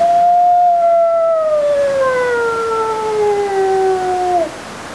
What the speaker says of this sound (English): He continues to howl